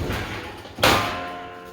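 An electric range oven door comes off its hinges with a single solid clunk and a metallic rattle, close and fairly loud, after a low steady hum.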